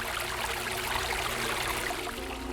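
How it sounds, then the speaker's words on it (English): Burbling water flows steadily, a continuous close bubbling and trickling like a small stream, with no voices over it. "I wanted to have that sound of like the burbling water"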